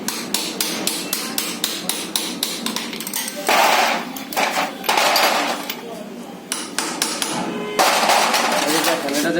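Metal hammer blows strike a nut on an ATV in rapid, ringing clanks, with bursts of repeated taps and brief pauses; someone speaks at points under the close, loud metallic hits.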